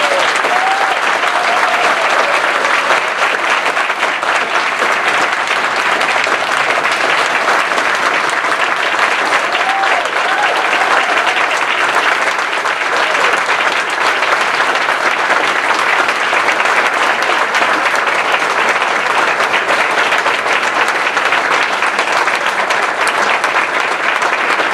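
Sustained, loud applause from an audience cheering graduates at a 2011 physics department commencement, dense continuous clapping that stays full and even for nearly half a minute with no speech over it.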